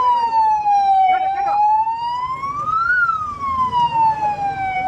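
A wailing ambulance siren rises and falls steadily and close by at a highway accident scene, with traffic rumble and brief voices underneath.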